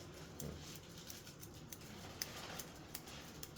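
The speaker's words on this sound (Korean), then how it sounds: "여기서 이제 초벌한다는 느낌으로 가위질 할 거긴 한데" Scissors snip through hair during a rough first-pass trim, a series of quick, sharp, faint clicks at irregular intervals over quiet room noise, with no talking.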